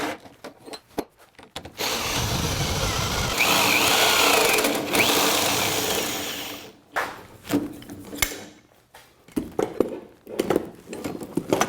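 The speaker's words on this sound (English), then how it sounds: "it's a little hard to drill through. Another good reason to have a carbide face bore bit" A power drill with a carbide face bore bit grinds steadily through the LVL lock stile of a door for several seconds, bracketed by short clunks and handling noises of tools on wood.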